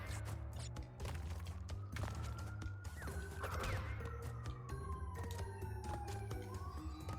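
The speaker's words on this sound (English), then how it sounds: "that was definitely a siren back there" A siren drifts past outside an open window, its rising and falling wail audible at moderate distance over a steady dense background of game sound and bumps.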